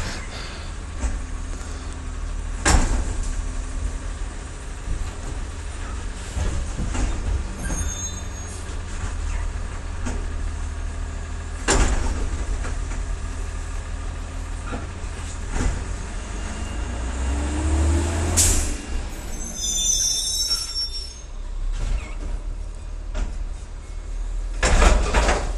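A garbage truck collects trash with a steady low engine rumble, clanks and thuds, and a hydraulic whine and squeal near the end, all fairly close.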